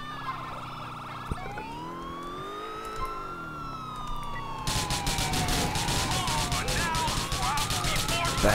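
Police car siren in GTA IV, a rising and falling wail that sweeps steadily, joined partway by a loud, fast-pulsing yelp tone, heard up close beside the car's engine.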